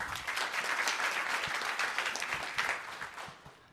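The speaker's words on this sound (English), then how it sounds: "One more round of applause for Tommy." A room full of people applauds at a business pitch competition as a presenter is welcomed, with brisk, dense clapping that holds steady before tapering off near the end.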